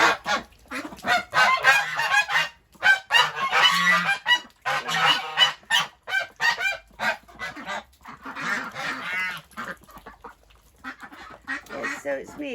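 Geese honk and ducks quack loudly and insistently in a muddy duck pen during rain, a close, busy chorus of overlapping calls with brief pauses between bursts.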